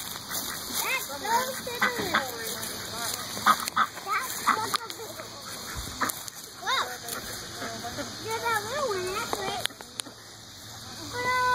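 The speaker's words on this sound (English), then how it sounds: "Those ducks will attack you. Those geese will attack you." Ducks and geese quack and honk by the water near a boat, a busy close flock of calls mixed with splashing, while people talk over them throughout.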